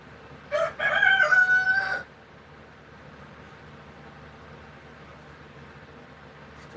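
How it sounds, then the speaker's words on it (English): A rooster crows once, fairly close and loud, a ringing call of about a second and a half at the start, followed by a quiet steady background hiss with no other sounds. "Still got some roosters that gotta go, obviously."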